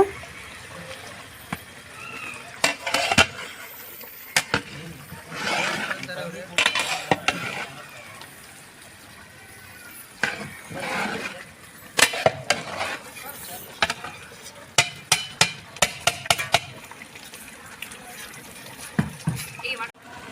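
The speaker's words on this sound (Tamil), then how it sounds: "இப்போ நல்லா கலந்து விட்டுக்கலாம் அரிசி உடையாத அளவுக்கு பொறுமையாக பார்த்து கலந்து விட்டுக்கோங்க" Mutton being stirred into rice in a large pot for a 6 kg mutton dum biryani gives wet, irregular scraping and clanking of a ladle against metal, with bursts of clatter under a person talking.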